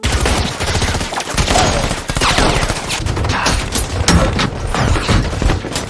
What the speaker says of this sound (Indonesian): langsung mendapat serangan rentetan tembakan